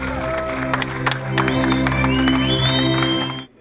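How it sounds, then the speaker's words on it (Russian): A crowd gives a loud, sustained ovation with clapping and cheering as the doors of a new sports facility are opened, with steady tonal music or drone underneath before an abrupt cutoff. "Яхья Мережков и Хасан Халмурзаев под громкие овации собравшихся распахнули двери нового спортивного сооружения"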